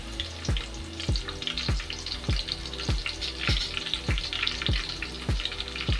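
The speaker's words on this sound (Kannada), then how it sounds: "ಎಣ್ಣೆ ಹಾಕ್ಕೊತಾ ಇದ್ದೀನಿ. ಈಗ ನಾನು ಫಸ್ಟ್ ಬೆಳ್ಳುಳ್ಳಿ ಹಾಕ್ಕೊತಾ ಇದ್ದೀನಿ ರೀ." Garlic sizzling in hot oil at the start of a chicken gravy, a steady broad crackle with bright spattering, broken roughly every half second by a regular low thumping knock, with no talk.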